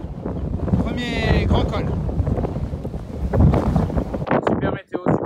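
Strong wind buffets the microphone on a Pyrenees mountain pass along the GR10 trail, a loud continuous roar with gusting swells, while someone talks over it.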